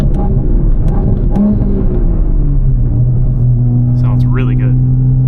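A deep, tuned 840whp Toyota Supra engine running on E85 revs and accelerates up close on a street, its rumbling tone rising and shifting through gears.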